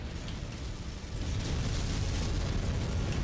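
Heavy weapons fire from a mech battle in MechWarrior 5, with an AC-20 autocannon and other weapons pounding targets as a thick, continuous roar of impacts and explosions, loud and unbroken throughout.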